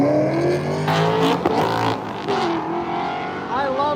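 LS-swapped Mazda RX-7 FD race car at a drag race, its V8 roaring and revving loudly under crowd noise and an announcer's voice, engine pitch rising and falling, with a brief squealing whine at the end.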